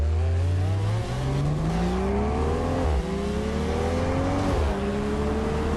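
Diecast toy cars racing downhill, carrying a loud, continuous race-car engine roar that climbs in pitch through repeated gear shifts, dropping and rising again several times.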